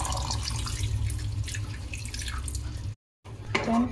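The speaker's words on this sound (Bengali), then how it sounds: "এবার আমরা এর মধ্যে দিয়ে দেবো জল অল্প করে অল্প করে জল যাবে" Water poured little by little into a frying spice mixture for a homemade Bengali dish, giving a steady close sizzle and splash that stops briefly, then returns with a louder burst.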